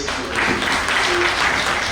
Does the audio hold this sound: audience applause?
yes